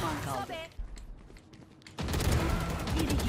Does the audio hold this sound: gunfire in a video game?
yes